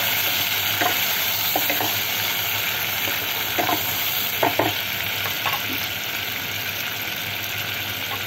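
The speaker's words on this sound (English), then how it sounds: "So, stir-fry a bit." Garlic prawns and lady finger stir-frying in a pan with soy sauce, a continuous bright sizzle punctuated by scraping stirs and clinks of the utensil, close and steady.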